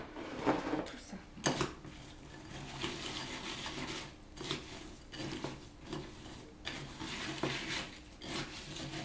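A mixture is stirred in a container, with faint scraping and clinking of a utensil against the sides, coming in irregular strokes and small knocks at low volume.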